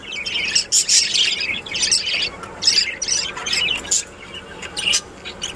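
Caged budgerigar parents chirp and squawk in quick, bright bursts while the father feeds, calls coming close and fairly loud in an irregular chattering rhythm.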